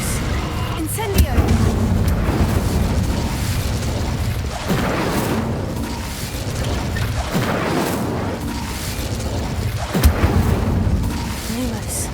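Incendio fire spells cast repeatedly in Hogwarts Legacy, with rumbling, booming bursts recurring every couple of seconds over a dense, continuous game soundscape.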